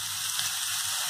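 Chopped shallots or onion and large-cut mushrooms sauté in a pan for mushroom soup, giving a steady, even frying hiss that runs briefly and alone.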